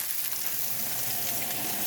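Sausage frying in a pan, giving a continuous close sizzle with crackling spits and pops, steady in level throughout.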